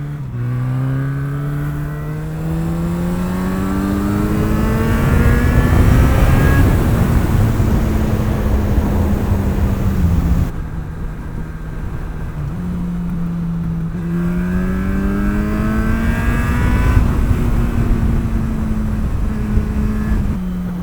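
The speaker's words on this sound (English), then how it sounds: "this engine is great because it spools up quickly, sounds great" A Yamaha XJ6 motorcycle engine with 60,000 miles revs hard and climbs in pitch through several gear changes, dipping briefly between them. Loud and close, with no voices.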